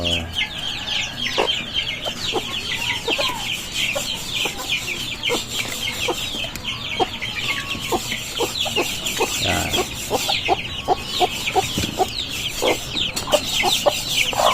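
A mother hen clucks among her newly hatched chicks, whose constant high peeping fills the scene alongside her repeated low clucks, close and lively, with a brief spoken word at the start.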